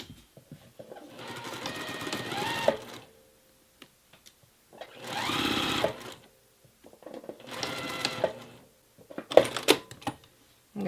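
A sewing machine runs stitches along a 5/8-inch seam in saddle bag lining, in three sustained whirring bursts separated by short pauses and a few small clicks, close and clear with no talk.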